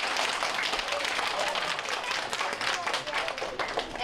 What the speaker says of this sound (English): So can we give them a nice round of applause?